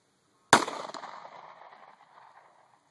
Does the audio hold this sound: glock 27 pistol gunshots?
yes